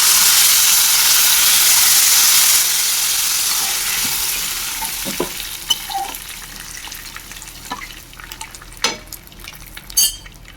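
Tamarind water with peanuts simmers and sizzles in a pan while puliyodharai is cooked; a loud hiss at first settles into bubbling, with occasional clinks of a spoon against the pan and no talking.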